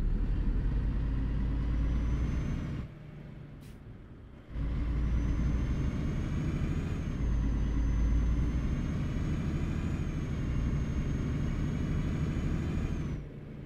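Truck in Euro Truck Simulator 2 pulling away, a steady mid-pitched engine drone with a brief dip and a short hiss like an air brake, then the engine rising again and holding loud to the end.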